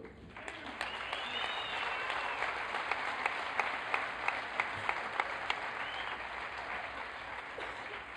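Spectators at the 2010 Luciapokalen bodybuilding competition applaud a junior under-80 kg competitor's pose. The applause is dense and sustained, with sharper individual claps standing out throughout.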